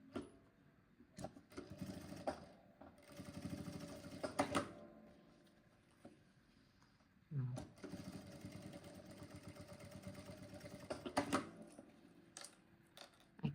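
A sewing machine runs a straight seam on a fabric bag, a rapid mechanical stitching whir in two longer runs with brief stops between, close and fairly quiet.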